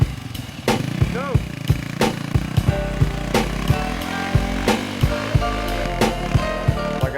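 An off-road race motorcycle is ridden hard, its engine revving and surging in rapid bursts with sharp knocks and bumps from rough terrain, close and loud throughout.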